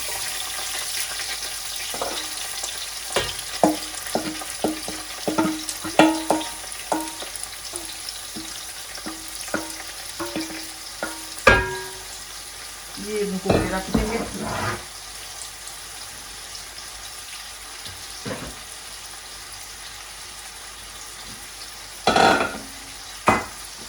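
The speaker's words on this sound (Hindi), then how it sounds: "ऑनियन डालेंगे" Onions fry and sizzle in a pot for mutton pulao, with a steady crackle broken by repeated scraping stirs and clanks of a spoon against the pan, no talk.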